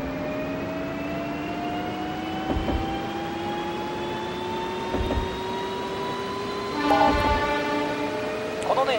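A JR 209 series Keihin-Tohoku Line commuter train in the Densha de GO! Professional game departs Shinagawa, its motor whine rising steadily in pitch under continuous rolling noise, with brief clanks of rail joints and a short tonal burst near the end.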